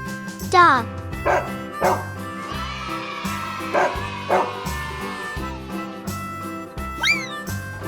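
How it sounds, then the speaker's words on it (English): A dog barks in a handful of short, sharp yaps spaced across a bright children's music track, close and prominent over the beat. "Dog."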